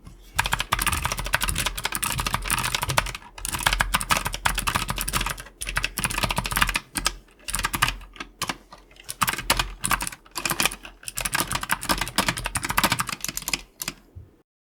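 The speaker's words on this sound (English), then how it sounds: "we're going to be doing a quick audio test for the keyboards right now" A GIM KB-64 60% keyboard with blue switches clacks under fast continuous typing, with crisp, loud, close keystrokes broken by brief pauses and no speech.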